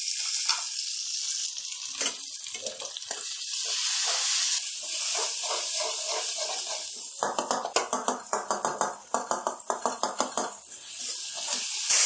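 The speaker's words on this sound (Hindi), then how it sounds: "टमाटर हम सॉफ्ट होने तक पकाएंगे।" Tomatoes cooking with golden onions in a pan for restaurant-style chicken masala gravy, a steady close sizzle and hiss with a burst of rhythmic spoon scraping and clattering against the pan in the second half.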